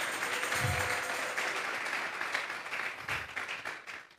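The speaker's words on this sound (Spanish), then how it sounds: "Vamos a regalarle ofrenda de palmas al Dios de la gloria." A church congregation claps in applause during a service, a soft, fairly distant patter of many hands that holds steady for a few seconds and then thins out.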